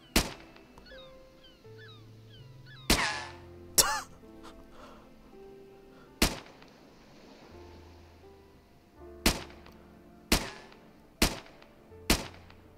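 Separate gunshots aimed at zombies in a modded Minecraft zombie apocalypse: about seven sharp, loud single cracks spaced irregularly over several seconds, each with a short decay, over quiet game ambience.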